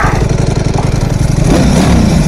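A Ducati Panigale V4 Lamborghini motorcycle engine revving in neutral, loud and close, with a pulsing idle that climbs into a rougher, rising rev.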